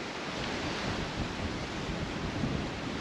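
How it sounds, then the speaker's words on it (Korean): Steady broadband wind rushes across a mountain trail on Gyebangsan in Pyeongchang, Gangwon, a continuous close roar with no talk. "바람소리."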